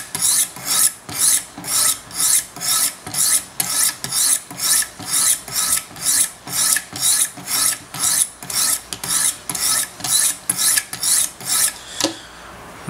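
Sharpener stones on a Wicked Edge guided system hone a micro bevel on a large Sebenza 21 Insingo knife, producing about two dozen crisp, evenly paced back-and-forth rasping strokes that stop near the end.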